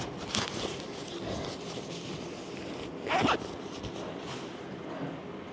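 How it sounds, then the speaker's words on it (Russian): Adhesive tape is pulled off the roll and wound onto a stick in an office being prepared for wall painting, giving a few sharp ripping strips, one louder near the middle, over quiet room tone. "Наматываю скотч на палку."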